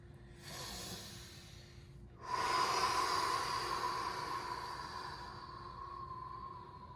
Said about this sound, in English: go back to long, deep, peaceful breathing